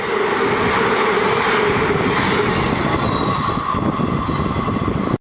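The Hul Express train passing close by, a loud continuous rumble and clatter of wheels on rails with a high metallic squeal, sustained throughout before cutting off abruptly at the end.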